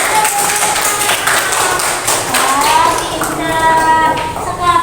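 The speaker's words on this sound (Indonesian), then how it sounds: "Tepuk tangan untuk" Applause in a primary classroom: a burst of quick, uneven hand claps and taps from pupils that stays fairly loud and close throughout, with children's voices rising over it near the end.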